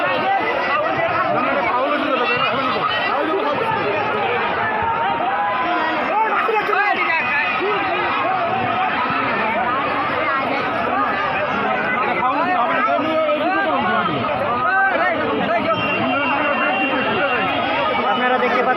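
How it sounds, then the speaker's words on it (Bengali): A large crowd gathered for a traditional village boat race in rural Bengal fills the air with dense, loud, unbroken babble of many voices, close by and steady throughout. "আপনারা দেখতে পাচ্ছেন এখানে অনেক জনতার ভিড়।"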